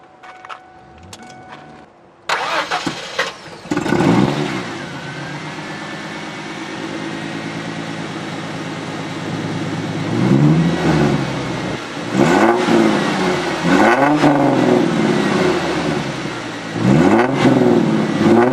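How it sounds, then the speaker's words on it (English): A drift car's engine cranks and catches after a battery swap, then revs repeatedly in loud rising and falling bursts close by, with a steady idle in between. "I just so happen to have an extra car battery, which is great."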